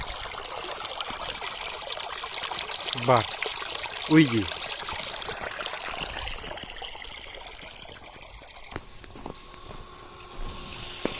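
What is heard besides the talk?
water flowing from a sewage pump outlet hose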